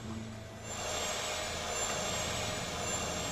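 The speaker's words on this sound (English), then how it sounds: "Those engines sure ain't at full power." Jet aircraft engines roar steadily during takeoff, captured on a cockpit flight recorder at less than full power, a constant broadband rumble with a faint high whine and no voices.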